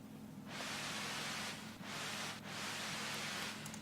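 A synth noise oscillator swells in with rising level and pitch, a broad hissing wash that holds loud and alone, dipping twice briefly before surging again.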